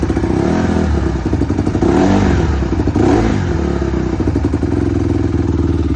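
A Honda CRF150R dirt bike with a carburetor problem runs boggy and loud up close, its engine revving and stumbling unevenly with clattering mechanical noise.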